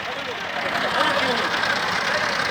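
A tractor engine runs steadily with a loaded sugarcane trolley stuck on the road, a continuous nearby rumble and rattle with no breaks.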